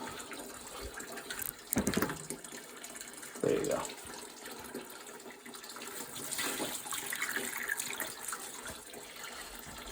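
Water poured by hand into a Burnham steam boiler, a faint gushing and splashing that comes and goes in short pours, with someone talking quietly during it.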